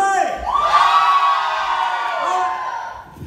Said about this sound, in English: I want to hear every single one of you scream as loud as you can